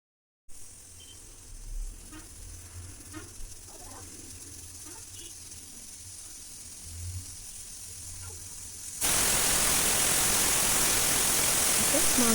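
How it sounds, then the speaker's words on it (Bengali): A pressure cooker on a gas stove, cooking meat, gives a steady loud broadband hiss that starts abruptly near the end and holds, after a quieter stretch of faint kitchen sounds. "এবার প্রেসার কুকারটা বন্ধ করে দিয়ে গ্যাসে বসিয়ে দিয়ে 10টার মতো সিটি মারিয়ে নেব আমি"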